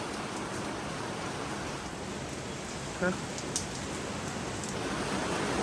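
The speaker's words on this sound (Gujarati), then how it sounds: "જોઈ લો વરસાદ આવી જવો છે ને" Steady rain pours down in a continuous, even hiss, with a couple of faint clicks of drops landing nearby.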